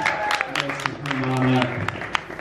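Audience clapping and cheering at a worship talent show, a short burst of applause rising around a voice and fading, with sustained musical tones running beneath.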